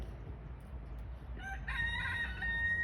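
A rooster on a chicken farm crows once, clear and fairly near, rising out of a low rumbling background hum.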